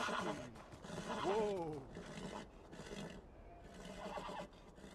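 A horse neighs loudly in Beyond Two Souls, a wavering whinny in the middle followed by a softer one near the end, with snorting and ambient outdoor noise, and a person speaks between.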